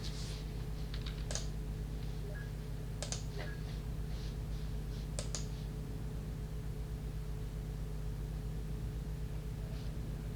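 Computer keyboard keys are pressed while playing Marathon: Tempus Irae, giving scattered faint clicks and taps in small bursts over a steady low hum, with no voices.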